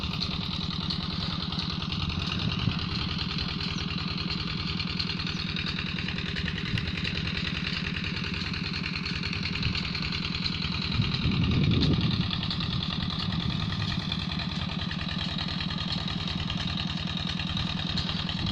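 A Peter diesel engine pumping groundwater for irrigating a wheat field in a Punjab village runs in a steady, droning chug throughout, moderately distant and unbroken, with no voices.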